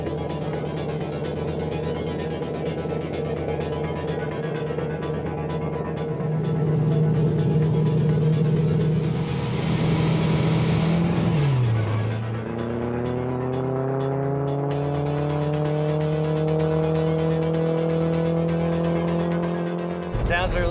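A land speed racing car, driven by a rookie, accelerates through its gears: a steady engine drone that climbs, drops sharply at a shift, then rises again, with a voice talking over it.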